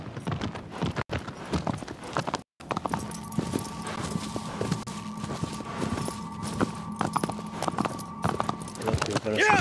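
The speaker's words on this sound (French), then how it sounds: "Se déplacer avec notre cheval." Horse hooves clip-clop at a steady walking rhythm in the video game Shadow of the Colossus, with a sustained game ambience and a voice underneath.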